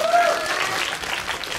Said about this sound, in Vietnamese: Vỗ tay cho Hòa Minzy.